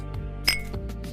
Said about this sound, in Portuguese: Os cantos de seus olhos ficaram vermelhos enquanto ele energeticamente batia sua própria xícara